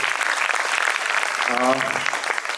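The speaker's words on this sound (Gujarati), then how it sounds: "આપણે સૌ હાર્દિક તાળીઓથી અમને સ્વાગત કરીએ" An audience at a children's poetry gathering at a school applauds to welcome a guest, a dense, steady clapping that carries through the whole stretch.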